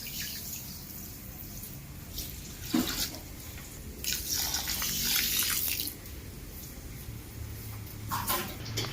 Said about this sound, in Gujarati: ખાંડ ડૂબે એટલું પાણી નાખી દઈએ આપણે.